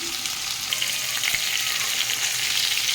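Pointed gourd (potol) frying in oil in a pan gives a steady, close, bright sizzling hiss with faint crackles and pops, heard alone without talk.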